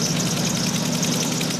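An engine running a battery-charging generator drones steadily and loudly close by. A voice talks over the continuous hum.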